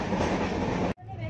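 Shatabdi Express 12041 running on the rails between Howrah and New Jalpaiguri, a loud steady rumble of wheels and carriage noise that drops away abruptly near the end, then returns more quietly.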